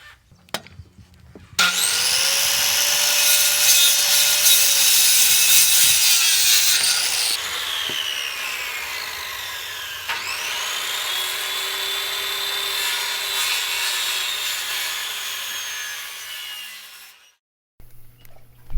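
A saw cuts through wooden rafter tails for sub-fascia on a pole barn shop build: two long, loud rasping cuts with a short pause between them, running alone with no talk.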